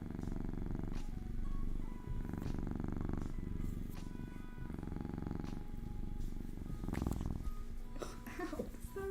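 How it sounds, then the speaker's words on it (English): Close, continuous purring from a cat, a low rhythmic rumble that swells and dips, with brief rustles of handling. "Do you hear his purring?"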